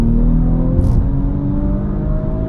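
An Audi RS5 Sportback accelerating hard at full throttle, a loud, steady engine roar with strong low rumble and rising whine, heard close with no talk.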